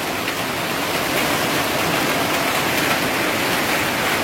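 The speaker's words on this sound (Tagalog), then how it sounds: "nabutan pa tayo ng malakas na ulan" Heavy rain pours steadily during a rice harvest in the province, a dense, even hiss of downpour that continues unbroken and loud throughout, with no voices.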